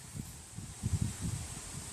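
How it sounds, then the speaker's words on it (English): Gusts of wind buffet the microphone in soft, low rumbling bursts outdoors, fairly quiet, with no voices. "it's getting windy out here"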